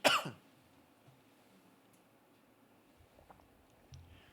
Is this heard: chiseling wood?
no